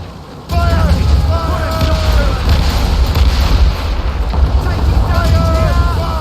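Ship cannons fire in Assassin's Creed Rogue as heavy booms over a rumbling naval battle, with shouted voices and command callouts layered over the thunderous, continuous low roar.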